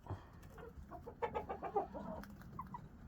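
A silver laced Orpington hen clucks softly in a string of short, murmuring notes, close by and low in level, on a cold winter evening in a henhouse.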